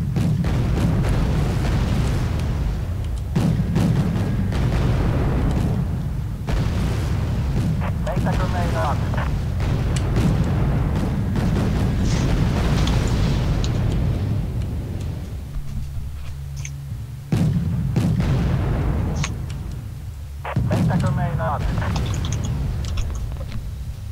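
Artillery cannons firing in a war video game, heavy deep booms repeating every few seconds with rumbling tails, each blast loud and close, interspersed with brief lulls.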